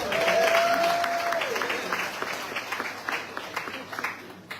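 A crowd applauds, a dense patter of clapping that slowly thins out, with a brief whistle-like tone near the start.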